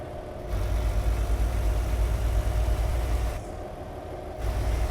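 A truck engine idles in American Truck Simulator with an open-pipe exhaust, a steady low rumble that cuts out briefly twice and returns, with no talking.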